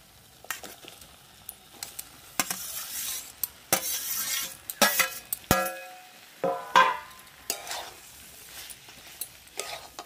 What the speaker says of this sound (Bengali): মশলার সঙ্গে ভালোভাবে সবজিগুলো মিশিয়ে নেব।